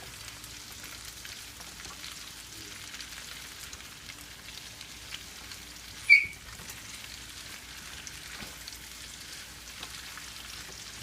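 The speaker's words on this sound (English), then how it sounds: "Keep moving around in the pan, get them sauteed real nice, get them coated with all that oil." Vegetables for an alkaline vegetable lo mein sauté in plenty of oil in a pan, giving a steady, soft crackling sizzle throughout with one brief sharp tick midway and no talking.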